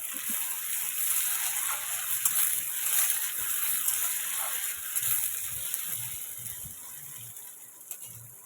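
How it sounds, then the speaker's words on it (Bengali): Neem flowers frying in hot oil in a home kitchen, a steady soft sizzle with broadband hiss and faint crackles, moderately quiet and continuous with no talking. "তেল গরম করে নিয়ে এদিকে আমি নিম ফুলটা ভেজে নেব।"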